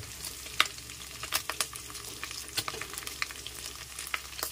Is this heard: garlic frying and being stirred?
yes